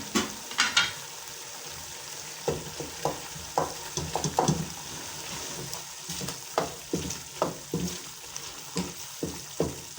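Minced meat and peas frying in a few spoons of oil for qeema matar, a steady sizzle broken by a regular series of spatula strokes and scrapes against the pan, close and fairly loud.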